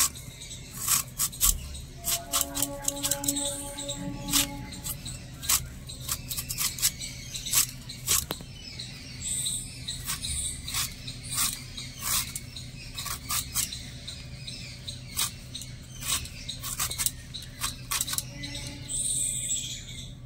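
Raw green mango is cut into fine shreds with close, crisp repeated knife strokes and scraping taps, irregular in rhythm and continuing steadily, with no talking.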